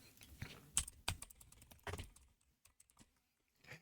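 Keys clacking on a computer keyboard while a search is typed into a browser, in short irregular bursts of close, crisp taps with pauses between them, quiet and free of talk.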